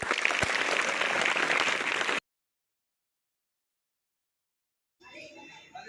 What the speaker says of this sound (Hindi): बजाओ ताली सब।